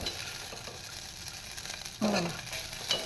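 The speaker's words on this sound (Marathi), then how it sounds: "साबुदाणा आपण तुपावरती परतवून घेतला" Sago pearls frying in ghee while being stirred, soft sizzling with light spoon scrapes and a brief louder stir-and-clink near the end, no talking.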